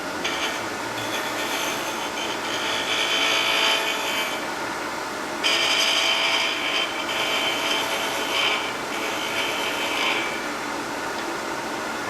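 A gouge cuts spinning wood on a lathe while an owl is turned, giving a steady, loud rasping hiss that swells and eases in several long passes.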